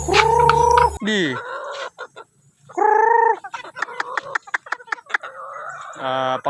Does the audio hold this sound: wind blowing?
no